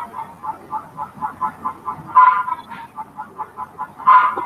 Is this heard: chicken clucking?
yes